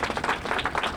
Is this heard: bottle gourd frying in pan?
no